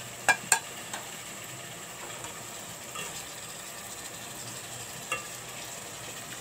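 Kebabs fry in a pan on a full flame, a steady soft sizzle running throughout with a few sharp clicks and taps near the start and later on, and no talking.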